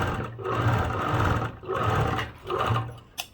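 An overlock sewing machine stitches fabric in three close, loud runs of whirring hum, each broken by a brief pause, ending with a few small clicks.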